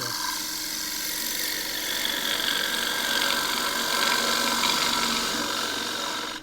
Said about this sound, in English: I very rarely cut all the way into the middle with a gouge.